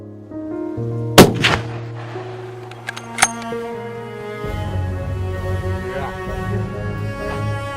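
A rifle fires during a mountain chamois hunt: two sharp, loud cracks about two seconds apart, over a steady tonal background.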